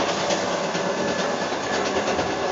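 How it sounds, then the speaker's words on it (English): The inside of a moving passenger train gives a steady, loud broadband rumble with faint rhythmic clatter from the wheels, and no voices. "we're gonna get off the train now because it's about almost our stop"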